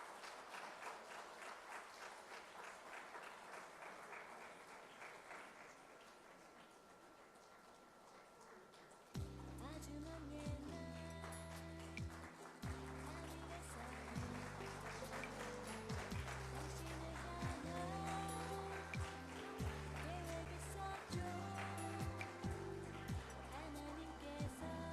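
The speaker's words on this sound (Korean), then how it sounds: "크게 박수해 주시죠." A church congregation applauds the children at a Children's Sunday service, with steady dense clapping that grows louder partway through as organ or keyboard chords join underneath.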